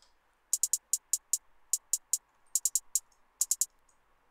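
Programmed trap hi-hat pattern made in Studio One: short, bright closed-hat ticks in quick clusters, with fast triplet rolls breaking up the rhythm. Dry and solo, over faint background hiss.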